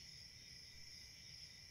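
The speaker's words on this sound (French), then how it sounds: "bercé par le son des grillons" Steady, high-pitched cricket chirping fills the air in a continuous shimmering drone, with a faint low rumble beneath and no voices.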